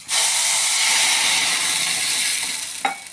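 Water hits a hot pan with a loud, sustained hiss and sizzle that slowly fades, ending with a small clink.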